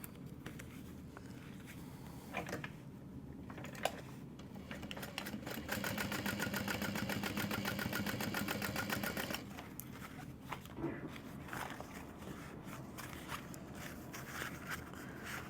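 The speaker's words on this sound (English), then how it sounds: "we're only going to top stitch the top edge" Sewing machine running steady bursts of top stitching along the top edge of a tote's scrap fabric exterior, a fast even mechanical patter that peaks in a sustained middle run with softer stops and starts around it.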